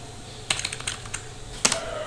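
Someone types CSS code on a computer keyboard, producing a short flurry of crisp clicking keystrokes, a pause, then another brief burst of taps, close and unaccompanied.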